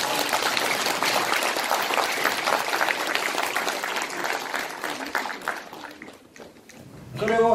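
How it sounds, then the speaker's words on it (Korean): Dense applause from an audience at an organization's general meeting electing a new president, sustained and fairly loud, thinning toward the end as a voice begins speaking. "큰 박수."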